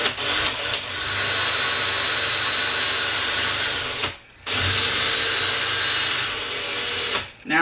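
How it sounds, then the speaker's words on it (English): An electric drill whines steadily as it bores into an acrylic aquarium tank, stopping briefly twice before revving up again, close and loud. "I'll be using an electric drill."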